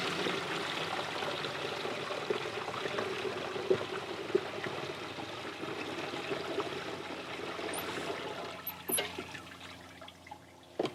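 Water pours steadily into the tank of a Petra HD4000 backpack sprayer, a continuous trickling rush filling about a gallon, close by and alone, with a few small knocks near the end.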